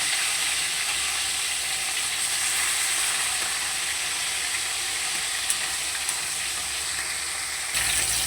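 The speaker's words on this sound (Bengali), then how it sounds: "চলো তাহলে মাছগুলো লাল করে ভেজে নেব।" Fish pieces fry in a pan with an even, loud, hissing sizzle that holds steady throughout, a few faint clinks of turning, no talking.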